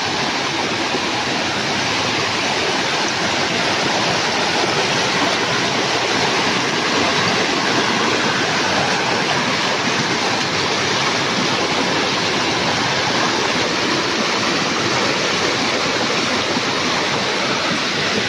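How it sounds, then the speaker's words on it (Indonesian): A river stream rushing along the Tancak Tulis waterfall trail, a loud, steady, broadband roar of flowing water heard alone from close by, with no one speaking. "Oke, kita seberang sungai dulu."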